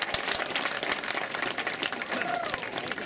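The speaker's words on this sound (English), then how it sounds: "big round of applause" Audience applause at an outdoor surfers' walk of fame induction ceremony in Hermosa Beach, a steady wash of clapping from a crowd that continues evenly throughout with some crowd noise mixed in.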